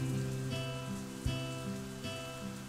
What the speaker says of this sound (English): For a while I just idly watch the rain falling outside.